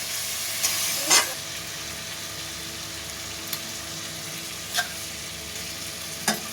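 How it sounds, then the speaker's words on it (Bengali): Potato filling stirred in a frying pan for a vegetarian omelette, a steady soft sizzle with a few scraping strokes of the spoon, fairly faint and close, no voices. "আলুর পুর দিয়ে এবার এটা খুব ভালোভাবে নাড়িয়ে নেব"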